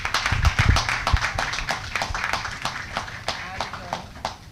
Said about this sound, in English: Can we have a round of applause for Professor Smith?